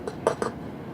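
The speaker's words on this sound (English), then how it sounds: "So I'll mix that in." A spoon knocks and scrapes against a bowl in three quick clinks while baking soda is stirred into clear slime, close and brief with no talking.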